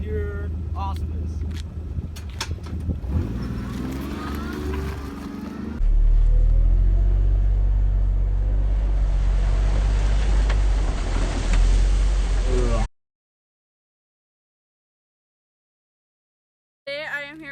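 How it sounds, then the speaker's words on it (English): A Kawasaki off-road multi-use vehicle engine gives a loud, steady low rumble that drones for several seconds, then cuts off abruptly into silence. Voices and mixed noise come before it. "Here we got the Kawasaki off-roading multi-use vehicle, not a Mason. It has 500 horsepower, 900 cubic inches of pure awesomeness"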